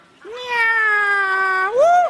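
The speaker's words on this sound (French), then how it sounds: "le chat." A cat gives one long, drawn-out meow that slides upward at the end, loud and close with nothing else around it.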